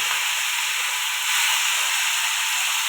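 Cut raw plantain goes into hot oil tempered with bay leaf, panch phoron and green chilli, giving a loud, steady, close sizzle that holds for a few seconds.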